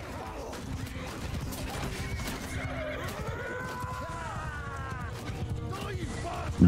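Horses neighing and whinnying in the video game Mount & Blade II Bannerlord during a lasso-capture attempt, with hoof clip-clops, clatter and battle noise mixed underneath, moderately quiet overall.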